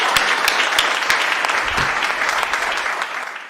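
Sustained, dense applause from an audience at a comic poetry gathering, steady and close with sharp claps throughout, gradually easing slightly toward the end, no voices over it.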